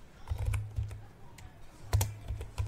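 Keystrokes on a computer keyboard while searching in Windows 11, a quick irregular run of close, crisp clicks with short pauses, no talking.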